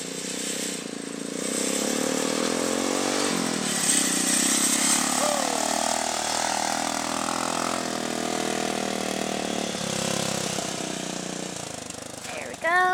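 A two-seater go kart built from ATV parts drives off with a steady, fairly loud engine drone that holds for most of the run, with people talking around it.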